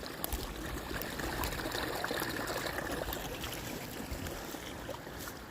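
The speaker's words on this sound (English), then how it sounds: "We got water coming in here now." Water flows steadily in a small stream at a beaver-affected wetland in Maine, making a soft, continuous rushing and trickling wash, faint and unbroken, with no voices.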